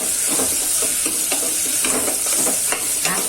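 Ginger-garlic paste and red chutney are stirred into frying ridge gourd and potatoes in a pan, a steady loud sizzle broken by rhythmic scraping strokes close by, with no talk.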